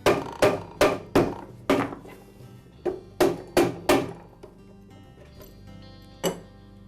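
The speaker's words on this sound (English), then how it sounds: "I'll strike the end of the motor shaft with a mallet" A mallet strikes the end of the motor shaft on a Ridgid air compressor to free the connecting rod during a pump rebuild, giving about ten loud, close, ringing metallic blows in quick bursts, then one final hit after a pause.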